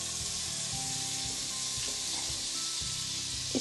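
A pat of butter sizzles on a hot tawa griddle, a soft steady hiss with a faint bubbling crackle, close but quiet, brief and without any talking.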